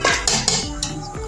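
Metal lid clanks onto a pot of cooking mixed vegetables: a few sharp clattering knocks in quick succession, close and fairly loud, with no talk.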